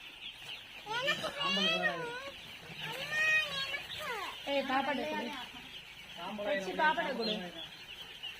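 Chickens cluck and squawk close by in repeated bursts, with pauses between calls.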